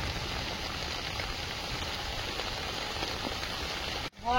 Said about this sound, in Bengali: চুপচাপ বৃষ্টি হচ্ছে ভদ্র।